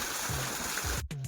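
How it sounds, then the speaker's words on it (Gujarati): Borewell pump running with water gushing out, a steady, dense rush of flowing water heard close and continuous, with a brief dropout near the end. "બોર ચાલુ થઈ ગયો છે"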